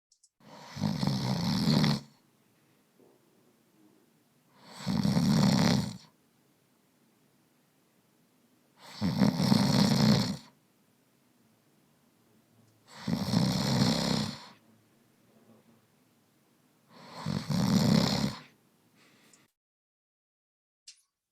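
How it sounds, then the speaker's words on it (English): A man snoring in five loud, evenly spaced bursts about four seconds apart, each a rough rattling inhale separated by quiet pauses, with no talking. "So sometimes snoring can sound like a light rustle or rattle. Other nights it might sound like a buzz saw."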